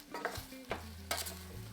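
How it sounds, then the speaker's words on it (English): Chopped tomatoes and vegetables for a homemade pasta sauce sizzle in a hot pan while being stirred, a close frying hiss broken by a few scraping utensil strokes, no talking. "now these things are just sizzling like crazy"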